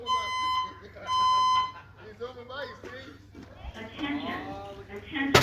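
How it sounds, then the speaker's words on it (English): A building fire alarm sounds during a fire drill, its steady electronic tones repeating in loud bursts near the start, then continuing more faintly beneath an announcement voice and people talking. "The fire drill is still on. The fire alarm is still on."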